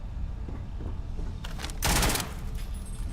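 AKM automatic rifle in the Starfield video game: a loud, rapid burst of fire cuts in over a low background rumble and lasts under a second.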